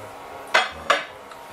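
A metal lid set onto a cooking pot of simmering beef shank with beans and tomato: two sharp clanks close together, then a faint third tap, with no talk.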